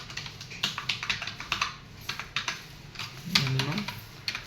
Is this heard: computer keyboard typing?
yes